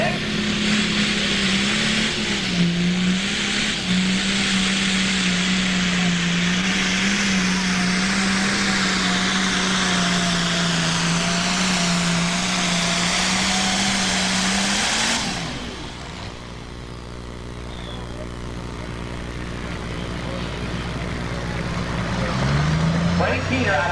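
A John Deere 1066 super stock pulling tractor roars at a steady high drone down the track at a 1994 Imlay City, Michigan pull, then cuts off abruptly and idles before revving again, with a voice over it.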